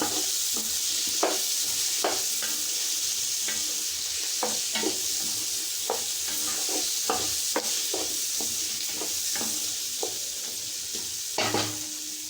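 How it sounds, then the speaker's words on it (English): Vegetables frying in a pan with turmeric powder and hing for sambhar rice, a continuous close sizzle with regular scraping stirs of a spoon against the pan, no talking. "To this you can add turmeric powder, hing, and then fry."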